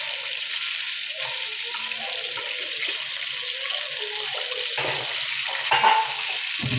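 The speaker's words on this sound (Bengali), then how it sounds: "মাছ এক সাইড ভাজা হয়ে গেছে, এখন উল্টে দেবো মাছগুলো" Taki fish frying in hot oil in a pan gives a steady, dense sizzle close by, with light scraping as the pieces are turned near the end.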